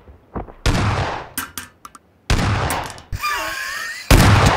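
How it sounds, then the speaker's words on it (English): Shotgun blasts in a first-person shooter game, several loud close booms with sharp attacks and decaying tails, separated by short gaps and interspersed with clicks and a whistling effect. "Oh, this is a shotgun, isn't it?"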